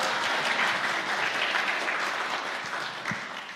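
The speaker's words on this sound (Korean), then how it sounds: "우리 서덕성 목사님 박수로 환영해 드리겠습니다" A church congregation claps to welcome a visiting pastor at a Sunday afternoon service, a full, steady burst of applause that fades slightly toward the end.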